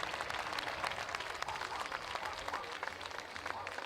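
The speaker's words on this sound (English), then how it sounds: "Give him a big applause" A crowd at a European Cup BMX race in Prague claps in a sustained burst for a rider back on his feet, dense and even throughout with the spectators at a moderate distance.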